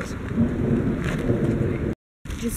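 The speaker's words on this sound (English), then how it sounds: "It just started to rain." Rain beginning to fall outdoors under a dark storm cloud, a steady loud hiss with deep rumbling thunder beneath, cut by a brief dropout before continuing.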